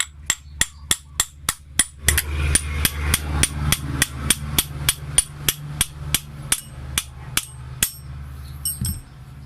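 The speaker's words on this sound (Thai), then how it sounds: "เสร็จแล้วเราก็ตอกออกเลยครับ" An axle pin is driven out with a hammer in a long run of sharp, evenly spaced metal strikes, about two or three per second, close and loud, with a short pause and a few final taps at the end.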